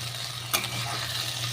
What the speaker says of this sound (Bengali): তো দেখো ভাজাটা হচ্ছে।